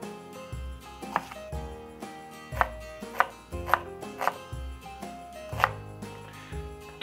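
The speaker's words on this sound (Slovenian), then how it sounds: "Zato sem zdaj prepravil še čebulo, pa nasekljal česen." Garlic chopped with a knife on a cutting board for a porcini spread: a steady series of sharp, close knocks, about a dozen uneven strikes, with no talk.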